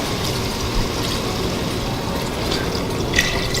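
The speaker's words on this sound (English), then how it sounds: "then I'm going to throw in my water" Water splashes into a pot of briefly fried ingredients as a dense, steady rush that fills the whole moment at close range, with no voices over it.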